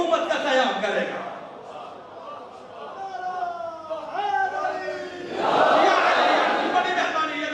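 An audience at a Muharram majlis shouts religious slogans in short bursts, a swell of massed voices near the start and again toward the end, with a single voice speaking between them.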